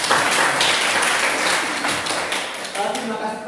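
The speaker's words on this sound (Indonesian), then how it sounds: "tepuk tangan untuk Anda" Classroom applause for a student after a physics lesson, a loud burst of many hands clapping that thins out, with voices talking over it toward the end.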